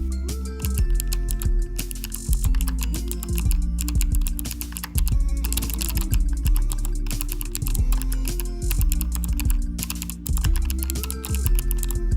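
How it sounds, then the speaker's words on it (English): Rapid clacking keystrokes on a Logitech G19 TKL mechanical keyboard, typed steadily for several seconds beneath loud background music. "There's just something so satisfying about typing on this keyboard."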